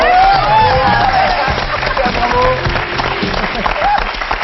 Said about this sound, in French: Bon alors là, je pense que tout le monde peut applaudir.